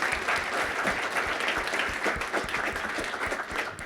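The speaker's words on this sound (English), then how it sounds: "please give our panelists another round of applause." Audience applause for panelists at a networking and early career development panel, a full, even round of clapping that holds steady to the end.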